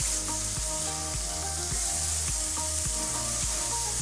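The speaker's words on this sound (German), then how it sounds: "Zwiebeln geben wir gleich auch dazu, dass die noch ein bisschen anrösten." Onions sizzle and roast on a hot grill with a loud, steady frying hiss, backed by rhythmic music with a regular beat.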